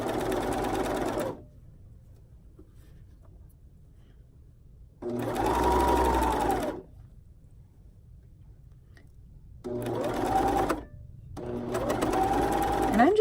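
A sewing machine stitches cotton swimwear elastic onto a one-piece swimsuit bottom in four loud, close bursts of rapid whirring stitching, with quiet pauses between them.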